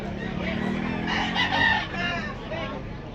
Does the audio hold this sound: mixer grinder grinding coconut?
no